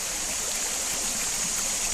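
A creek flows close by in a steady, loud rush of water with continuous bright splashing and no pauses, with no one speaking over it.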